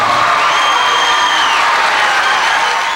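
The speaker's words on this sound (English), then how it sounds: "oftentimes unruly crowd that packed the auditorium here at the high school tonight" Unruly overflow crowd packing a high school auditorium, a dense continuous roar of cheering and jeering voices with whoops rising above, loud and steady throughout.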